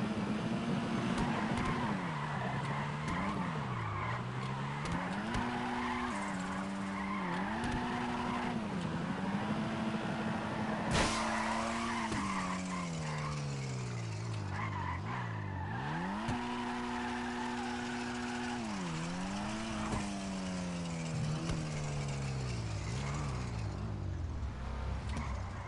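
At a car meet, a car's tires skid and squeal while its engine revs up and down in long, rising and falling sweeps, loud and continuous throughout.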